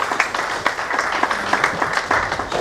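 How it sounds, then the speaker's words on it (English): An audience at an aviation safety business breakfast meeting gives a dense round of applause. Many close, overlapping claps keep a steady, lively rhythm throughout. "A round of applause for her, please"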